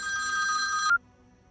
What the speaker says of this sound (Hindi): विपुल का फोन है।